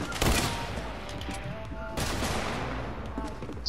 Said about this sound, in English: You're all shooting at me though.